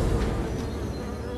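Bees buzz in a steady, dense drone that fills the whole short stretch, close and fairly loud, with no voices.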